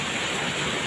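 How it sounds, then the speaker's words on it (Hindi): Heavy rain pours down in a steady, dense hiss, loud and continuous throughout the brief moment, with no voices. "बहुत जोर से बारिश आ रही"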